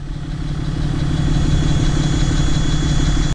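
A Cummins diesel truck engine runs steadily nearby with a deep, even rumble that holds at a constant loud level throughout.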